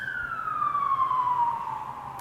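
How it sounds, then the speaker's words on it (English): A passing emergency siren wails outdoors, a loud single sweeping tone gliding steadily downward in pitch as the vehicle moves by, with faint traffic rumble beneath and no talking. "gonna let that siren pass"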